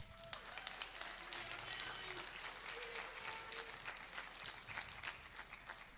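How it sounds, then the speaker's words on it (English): An audience claps steadily in a sustained round of applause, a dense patter of many hands with faint voices mixed in. "Round of applause for Mary."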